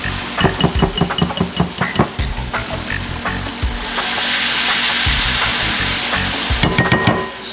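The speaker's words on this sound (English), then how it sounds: "we'll fry each side here" Jamaican-style carrot fritters sizzle and crackle in hot oil in a pan, with steady close frying punctuated by utensil clinks and scrapes as they are laid in and moved around.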